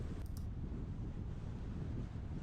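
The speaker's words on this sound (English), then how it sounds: "Way too windy." Strong headwind on a bicycle tour blasts the microphone with a steady, loud roar of rumbling noise that lasts throughout with no break.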